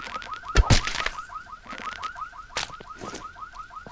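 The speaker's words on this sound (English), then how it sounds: "All right, the alarm stopped." A car alarm in a zombie survival video game gives a rapid, repeating electronic chirp that cycles steadily, with a few louder sharp bangs and clatters breaking in over it.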